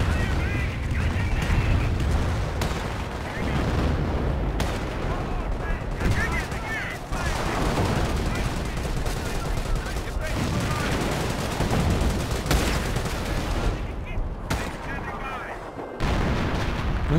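Artillery and gunfire boom and crackle in a video game battle on the Punkville map, with dense repeated blasts and machine-gun bursts throughout while someone talks over the action.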